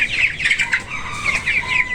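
Fifteen-day-old broiler chicks peeping and chirping close up, a rapid run of high calls with a few soft clucks.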